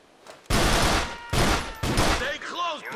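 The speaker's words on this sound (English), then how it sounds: "Shots fired." Repeated bursts of automatic gunfire in GTA IV: The Lost and Damned, three loud volleys in quick succession, followed by brief voices.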